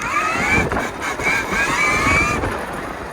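Electric trike motor accelerating hard in Mode 2 during a wheelie attempt, giving a rising whine over loud rumbling wind and tyre noise, close and continuous.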